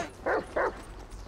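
A dog barking in Grand Theft Auto 5, two loud close yelps in quick succession with a third starting at the end, nearly alone with little talk over it.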